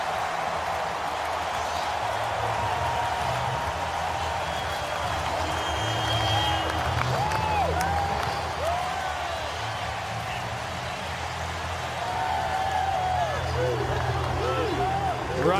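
Football stadium crowd at an NFL game, Arizona Cardinals at Kansas City Chiefs, roaring after a Chiefs touchdown: a sustained, loud wash of cheering and crowd noise that holds steady throughout, with whistles and shouts rising within the din.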